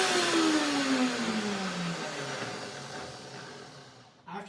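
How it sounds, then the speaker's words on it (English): Electric blender whirring through a chili and corn mixture, a loud steady motor drone with a pitch that slides slowly downward as the load shifts, then cutting off abruptly near the end. "Now let's see blender dance if it works."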